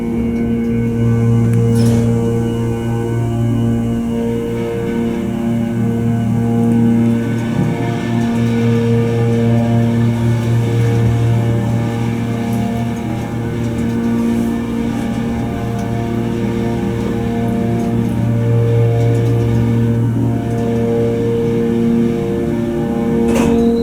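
An elevator in a parking garage in Norfolk, Virginia, runs up to the fifth floor with a steady, loud mechanical hum and drone that changes little over time, with faint clicks and no talking.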